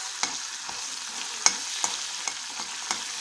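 Green chillies frying with ginger garlic paste in a pan for chili soya chunks, a steady soft sizzle with several sharp stirring clicks and scrapes spaced through it, close and moderately quiet, no talking.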